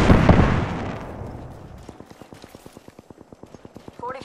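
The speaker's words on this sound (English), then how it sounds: "Knuckle clusters firing." Knuckle cluster ordnance fires in a video game: a loud opening blast trails off into a rapid, evenly spaced run of sharp explosive pops, about twenty in all, under quiet voice chat.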